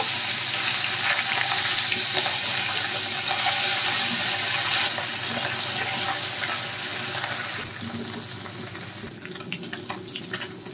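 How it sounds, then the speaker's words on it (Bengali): Small puti fish frying in plenty of salted mustard oil, a loud dense sizzle that continues steadily, easing slightly toward the end, with a few popping crackles. "এখন আমি মাছগুলো ভেজে নেব"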